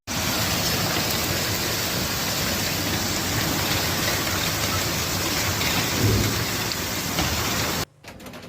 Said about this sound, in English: Citizens caught unprepared by the thunderstorm took shelters under trees and eaves.